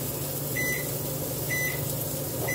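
A kitchen timer is set for 30 seconds while a grilled mac and cheese sandwich cooks, giving three short, evenly spaced beeps over a steady appliance hum.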